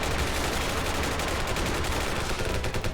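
Ravenfield battle gunfire, a dense, loud and unbroken stream of automatic rifle shots overlapping into a constant rattling roar for the whole stretch.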